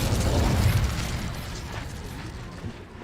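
A fiery burst from the Incendio spell in Hogwarts Legacy, a loud low rumbling blast at the start that tails off into a fading crackle over about three seconds, with no talking.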